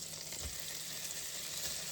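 Steady broadband sizzling of shrimp frying in a hot pan with butter, continuous and fairly close, with no voices.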